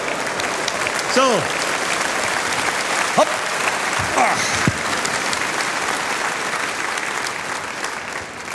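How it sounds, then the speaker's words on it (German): Studio audience at a Bozen 2005 folk music TV show applauds steadily throughout, a dense even wash of clapping with a few whoops and a brief spoken interjection over it. "Dein Applaus!"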